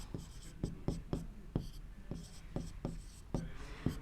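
Chalk or marker strokes on a board during a Class 9 maths lesson on circle geometry: a steady series of short, distinct taps and scrapes in a loose rhythm, close and fairly quiet, with no talk over them.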